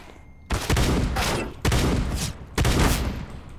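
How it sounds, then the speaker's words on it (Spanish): A shotgun fires in a video game: three loud blasts, each spaced about a second apart, with a rough decaying tail after every shot. "me dispara con las escopetas"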